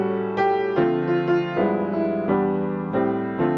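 Piano plays a jazz standard as a chord-comping demonstration: a sequence of rich sustained chords struck one after another at a relaxed pace, close and clear with no talking.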